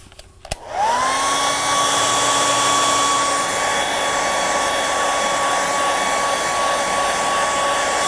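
A hair dryer switches on with a short click and spins up to a loud, steady whine, blowing air at close range to dry a painting and holding an even tone to the end.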